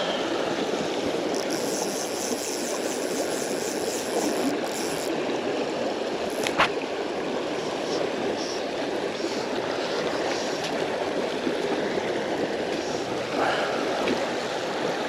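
Rough, fast water of the River Doon rushes steadily and loudly throughout, a continuous broadband roar of a broken riffle with no voices.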